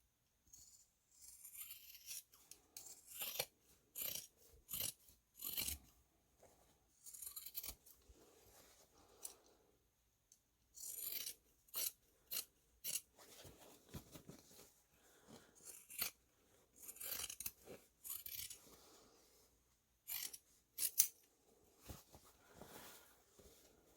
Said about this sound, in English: We're going to cut down our seam allowance down to 1/4 of an inch.